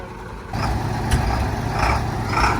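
A stuck military truck's engine idles and then revs into a steady, loud diesel rumble at close range, with no talking, while the truck sits mired and awaits a pull from a John Deere 8330 tractor.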